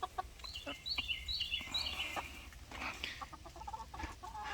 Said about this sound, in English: Maybe we get our rooster crowing here a little bit.